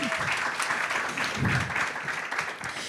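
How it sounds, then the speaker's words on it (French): Audience applause for performers on a lesbian theatre and drag king podcast, a steady wash of many hands clapping at moderate level, filling the clip without speech. "On les applaudit encore"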